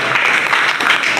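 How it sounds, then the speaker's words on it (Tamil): Audience applause at a village award ceremony in Ariyalur district, a steady broadband wash of clapping that stays loud and even for its whole brief length. "கரகோஷத்தை எழுப்பும்படி கேட்டுக்கொள்கிறேன்."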